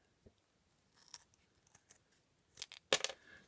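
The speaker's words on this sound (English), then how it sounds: "and then we'll just snip across again" Scissors snip across a piece at a woodcraft workshop, giving a few faint, sparse crisp cuts and rustles and then a louder cluster of snips near the end in a quiet room.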